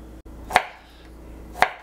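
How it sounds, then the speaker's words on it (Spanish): Two sharp knife chops cut Jijona turrón nougat on a board, about a second apart, close and crisp with quiet pauses between. "En primer lugar, trocearemos el turrón."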